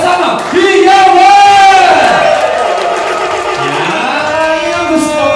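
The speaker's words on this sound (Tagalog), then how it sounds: "isa munang malakas na palakpakan na may kasama, Hiyawan!" A loud audience at a birthday gathering in San Roque, Marikina, shouts and cheers in a sustained roar, with rising whoops and voices layered over the continuous crowd noise.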